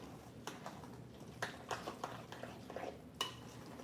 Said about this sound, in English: And we'll mix it all together.